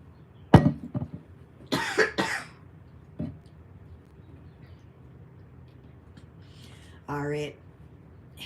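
A person coughs sharply several times in close, loud bursts, then clears their throat with a raspy rumble, with quiet pauses between the fits.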